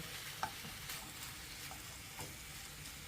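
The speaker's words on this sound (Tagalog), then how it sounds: "Halo-haloin ko lang." Pork is stirred while frying in its own rendered fat, giving a quiet, steady sizzle with occasional soft scrapes and taps of the utensil.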